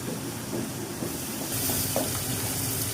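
Vegetables fry in a pan with a steady, close sizzle, broken by a few soft stirring scrapes and a brighter hiss that swells near the end; nobody speaks.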